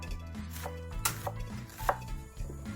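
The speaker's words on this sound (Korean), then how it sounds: "양파를 4분의 1개 정도만 다져주도록 하겠습니다." A knife chops a quarter onion on a cutting board for a sausage cream pasta, giving a series of close, irregular blade taps with a low background hum.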